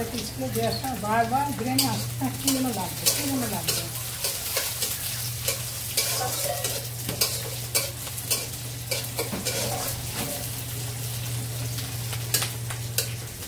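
Spice paste sizzles and is stirred in a pan, then fish goes in, the frying continuing with rhythmic scraping and clinks over a low steady hum, a voice talking at the start.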